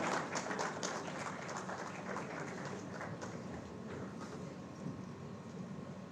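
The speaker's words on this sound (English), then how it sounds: "A huge round of applause for Mr. Partha Mohapatra." Dense, steady applause from an audience at a college convocation, a continuous wash of many hands clapping for several seconds, moderately loud with slight fading toward the end.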